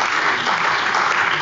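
Steady applause from members seated in a German state parliament plenary chamber, a dense, even patter of clapping filling the whole moment at close range without a break.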